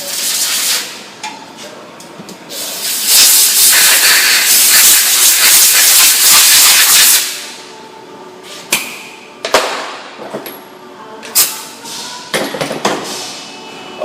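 Compressed air blasts loose debris out of a Ford car part, a long loud hissing burst followed by several shorter sharp bursts and clicks.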